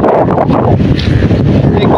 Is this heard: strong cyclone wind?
yes